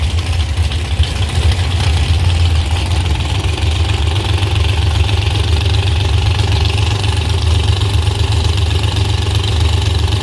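Joe Ballard's Corvette outlaw drag car idles loud and steady at Beech Bend Raceway, a rough, lumpy low rumble that holds constant and close with no voices over it.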